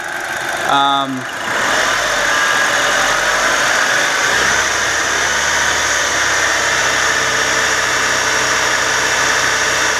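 An Audi A4 Quattro 2.0L FSI engine runs steadily at 2000 RPM, a loud continuous mechanical drone after a brief chirp at the start.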